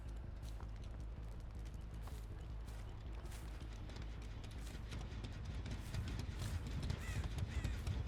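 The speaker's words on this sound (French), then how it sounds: "Est-ce que je vois des corbeaux?" Crows cawing in the horror game Dead by Daylight, several harsh caws scattered over a dense ambient bed, growing louder toward the end, with no talking.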